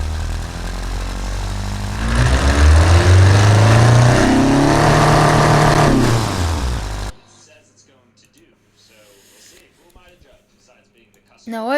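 A video game car engine drones and revs up with rising, wavering pitch, loud and close, then cuts off abruptly into near silence.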